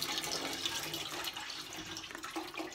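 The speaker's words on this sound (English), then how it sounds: "And I'm gonna pour your broth." Broth poured into a pot for a from-scratch Cajun sauce, a quiet steady trickling splash of liquid lasting a few seconds, close and faint with no talking.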